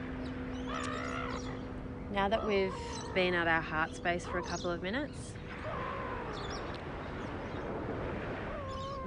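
Seagulls call in a burst of loud, repeated squawking cries at a calm outdoor spot while a person speaks calmly over them, the calls then thinning to occasional distant cries.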